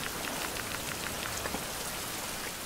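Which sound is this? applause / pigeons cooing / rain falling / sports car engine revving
rain falling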